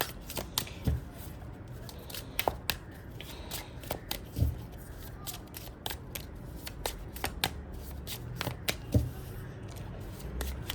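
A deck of tarot cards being shuffled by hand, giving repeated crisp riffles and soft slaps at close range, with faint background noise and no clear talk.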